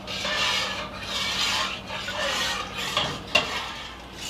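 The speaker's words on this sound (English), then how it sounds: "we're just going to continue stirring this until it comes to a full rolling boil" A spoon stirs a boiling fruit juice mixture for jelly in a pot, producing a steady scraping swish with rhythmic sweeps and a sharp clink near the end, with no talk.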